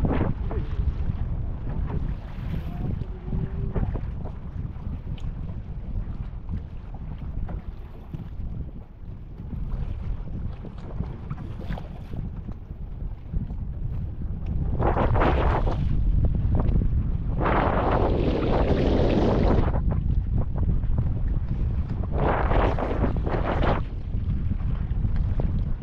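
Strong wind roars and buffets the microphone in heavy, rumbling gusts, growing louder and more turbulent in the second half.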